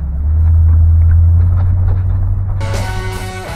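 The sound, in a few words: Pontiac Grand Ville car driving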